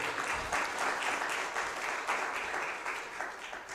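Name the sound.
round of applause for the guest speaker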